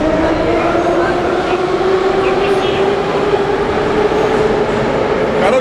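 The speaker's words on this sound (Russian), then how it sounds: "Короче, мы в метро едем на стадион!" A subway train carries riders toward a stadium, filling the car with a loud, continuous rumble and a steady tonal whine, with faint voices underneath.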